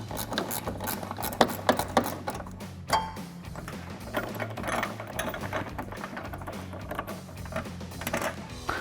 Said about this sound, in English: I'm gonna use a 10mm ratcheting wrench for this guy just because it's at a tough angle.